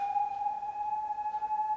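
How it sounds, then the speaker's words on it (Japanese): A steady high-pitched siren tone holds without pause, moderately loud against a quiet low background, with no voices. "また救急車来ちゃったね"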